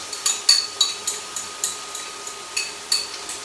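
Pre-soaked noodles stirred round a hot pan, a regular series of light scraping clicks about every third of a second over a faint sizzle.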